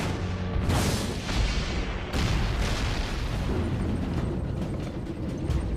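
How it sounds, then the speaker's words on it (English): Heavy artillery fire in a WWII tank battle, the Hochwald Gap, rumbles as loud, continuous booming with repeated blasts and mechanical clatter layered throughout, with no voices. "The heavy artillery clears the Germans, and the battle continues for the next 36 hours, with tanks and artillery making small gains against fierce German resistance."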